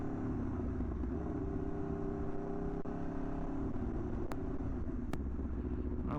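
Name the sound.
Aprilia RSV4 1100 motorcycle engine warming up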